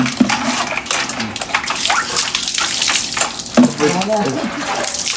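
Running water splashes and gushes while a very restless dog is bathed, with loud, close sloshing throughout and voices talking over it.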